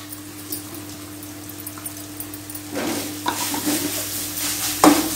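Grated coconut is stirred and fried in a pan, with faint sizzling and soft scraping that grows busier midway, over a steady low hum and ending in a sharp clink.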